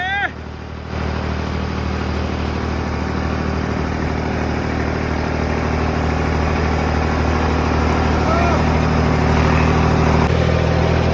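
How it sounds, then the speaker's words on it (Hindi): A Maruti Brezza car's engine drones steadily as the car works its way out of a stuck spot, the sound holding loud and close and rising slightly near the end, with voices faint in the background. "भाई यहाँ पे ब्रेजा निकलती हुई, चलो भाई निकल गई"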